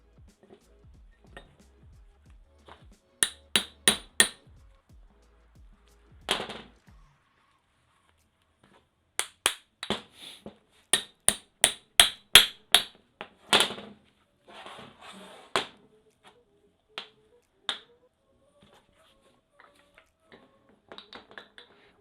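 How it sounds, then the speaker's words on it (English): Sharp metallic hammer blows on a socket while fitting U-joints to a vehicle driveshaft, in several quick bursts of three to eight strikes separated by quiet pauses, close and alone. "When you're hammering on these sockets, it's best to put the socket side down, the bolt side down"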